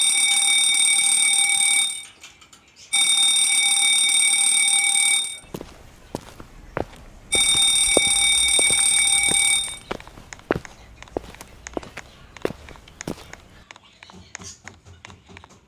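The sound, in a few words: fire alarm ringing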